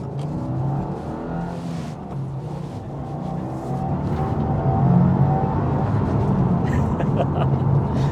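2025 Subaru WRX tS Spec B turbocharged engine pulling under boost, a steady low engine drone that swells gradually as the car accelerates, heard from inside with road noise.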